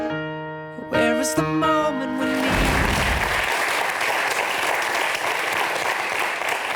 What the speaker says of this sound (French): ce sont des applaudissements d'encouragement